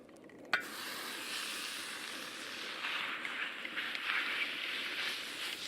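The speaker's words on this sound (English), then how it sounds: "Now we're gonna cook this beef through nice and hot" Beef frying in a hot pan, giving a steady, moderately quiet sizzle and hiss that follows a brief sharp clink near the start and carries on evenly throughout.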